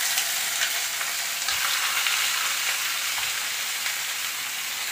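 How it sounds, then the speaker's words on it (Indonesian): Fish frying in a pan in a home kitchen, a steady dense sizzle and crackle of hot oil that continues unbroken with no voices over it. "Ini bunda, saya mau goreng ikan."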